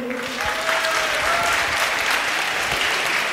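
Sustained applause from an audience honouring the backstage crew, photographers, camera operators and volunteers of an event, steady dense clapping filling the room throughout with a faint voice or tone early on.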